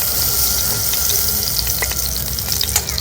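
Batter spoonfuls sizzle loudly in a hot iron frying pan while cooking batasa pitha, a steady close crackling fry with scattered sharp pops and no talking.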